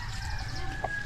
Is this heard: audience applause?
no